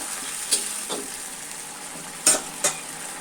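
Pieces of ash gourd are stirred in a pan over a soft simmering sizzle, with four short scraping and clinking strokes of a spoon against the cookware.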